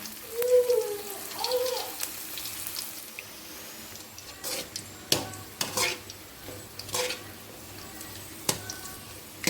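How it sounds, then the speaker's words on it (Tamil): Okra for bhindi 65 fries in hot oil over a medium flame, giving a steady, low hiss broken by the clinks and scrapes of stirring in the pan. A faint sound like a brief voice comes early on. "இப்போ எண்ணெய் சூடானது மீடியம் ஃப்ளேமில் நல்லா பொரிச்சு விடுங்க."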